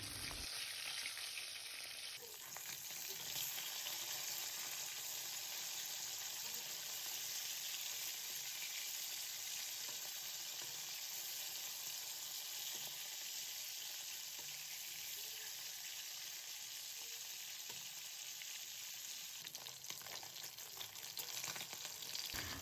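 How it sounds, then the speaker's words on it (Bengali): Katla fish pieces frying in hot oil for a Bengali fish curry, a dense continuous sizzle and crackle, close and steady for the whole stretch with no talk. "মাছগুলো দেওয়ার পর এবার ভালোভাবে ভেজে নেব।"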